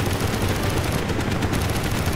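Dense, rapid gunfire in Call of Duty: Black Ops pounds continuously, a loud unbroken stream of shots like a heavy machine gun.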